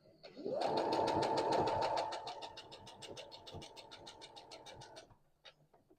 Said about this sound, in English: we are now coming up to the last few stitches